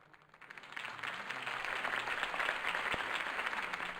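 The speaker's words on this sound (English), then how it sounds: "could have heard that applause" A big crowd bursts into sustained applause after Harvey Dent's campaign speech in Batman: The Telltale Series. The clapping rises quickly from near silence and stays dense and steady to the end.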